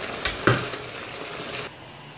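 Sliced potatoes for a Spanish potato tortilla sizzle in a covered pan, a steady frying hiss with a couple of sharper pops and lid or utensil clinks early on.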